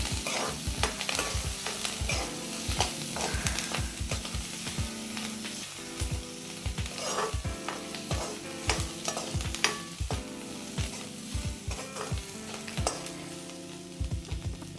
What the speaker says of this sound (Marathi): थोडंसं हलवून घेऊया